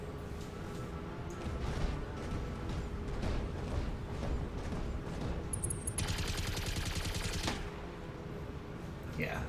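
Mech weapons fire in the BattleTech video game, rapid bursts and volleys of gunfire rattling continuously at moderate level beneath a voice talking.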